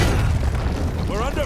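Heavy booms and rumbling explosions of battle in the game Warhaven, dense and loud throughout, with voices from the game talking over them.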